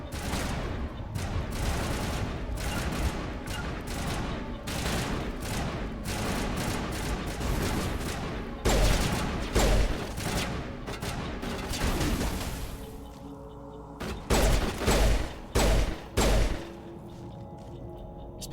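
Pistol fire in Mass Effect Legendary Edition: dense repeated shots crackle through a combat scene, then pause and return as a handful of sharp, loud bursts near the end.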